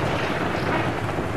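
Stormy wind in the Skyrim video game, a steady broadband rush and roar that holds loud and unbroken throughout, with no voices over it.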